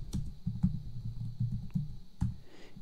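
Brief typing on a computer keyboard at a terminal: a few soft key clicks and taps in an uneven rhythm, close and quiet, with no voice.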